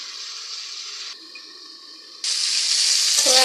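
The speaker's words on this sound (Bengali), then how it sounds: "তো এখন একটু সামান্য পরিমাণে পানি দিব, বেশি পানি দিব না" A little water goes into a hot cooking pan with a steady, hissing rush that drops lower, then surges back louder and brighter, close by and with no voices.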